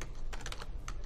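Quick bursts of keystrokes on a computer keyboard, a handful of close, light clicks in a short run with a brief pause before the last tap.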